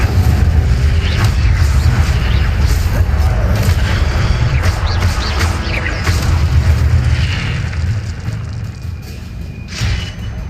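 Fire spell Incendio cast repeatedly in Hogwarts Legacy, heard as loud booming, crackling bursts over a dense low rumble, several blasts in quick succession fading slightly toward the end.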